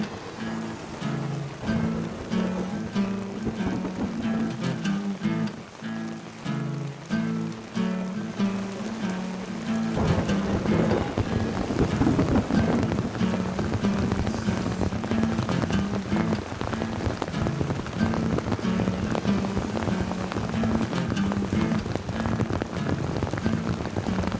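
Heavy rain pours down steadily during an outdoor chess session of senior grandmasters, growing louder and denser about halfway through, with no distinct thunder.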